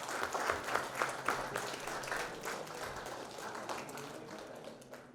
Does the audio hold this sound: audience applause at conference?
yes